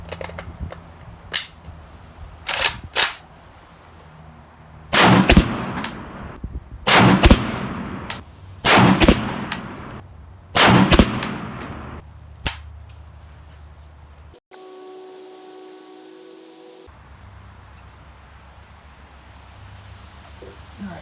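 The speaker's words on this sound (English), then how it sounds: "I'm going to be shooting right past my camera" A PSA AK-P pistol in 7.62x39 fires hollow-point rounds outdoors, a series of sharp, loud cracks spaced a few seconds apart, some in quick pairs, followed by quieter handling noise.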